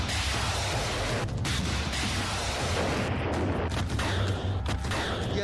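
A shoulder-fired anti-tank missile launcher fires amid dense, continuous blasts and booming noise, loud and sustained across the whole stretch with no clear gaps.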